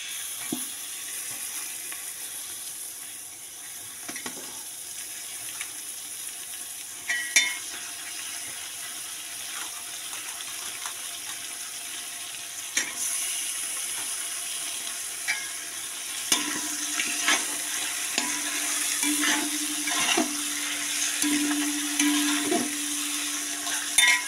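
Meat for biryani fries in a pan with a steady sizzle, punctuated by sharp metallic scrapes and taps of a stirring utensil, growing busier and louder toward the end, with no talking.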